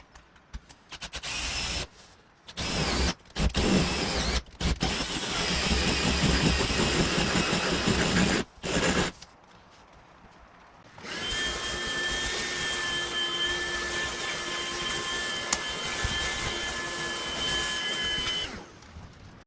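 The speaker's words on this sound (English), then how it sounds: "let me drill a hole" A power drill whines in several short bursts, then runs in a long steady grind with a high tonal whine, drilling a hole in a model railroad layout, close by and loud, with no talking.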